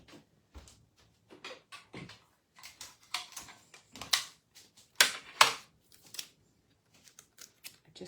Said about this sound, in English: I'm going to grab a little piece of Scotch tape on the side.